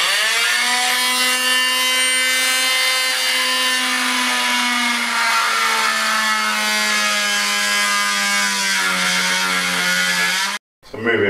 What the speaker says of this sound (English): I'm just going to use the old multi-tool,